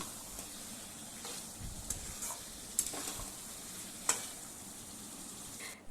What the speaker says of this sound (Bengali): আরও 4 থেকে 5 মিনিট মিডিয়াম ফ্লেমে এটা কষিয়ে নিতে হবে ভালো করে